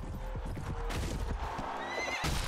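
A horse in the video game Prophesy of Pendor neighs loudly with a rising whinny, alongside clip-clopping hooves and game combat noise.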